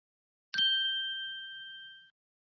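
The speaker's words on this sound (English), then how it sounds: "did you hear that bell?" A single bell strike rings out once in a children's bedtime story of Cinderella, marking midnight: a sharp metallic ding followed by a long, clear, steadily fading ring with no voices over it.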